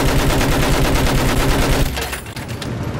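Loud, rapid machine-gun fire in the video game Battlefield 1, a steady stream of close shots for about two seconds that then drops to quieter, more distant firing.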